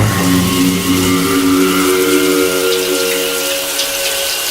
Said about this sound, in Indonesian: keran shower airnya